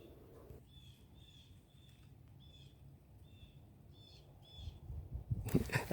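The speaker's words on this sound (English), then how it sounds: "Let's listen to the birds." Outdoors, birds give short, high, repeated chirps in a steady rhythm. The calls are faint and distant, and a louder rustling noise breaks in at the end.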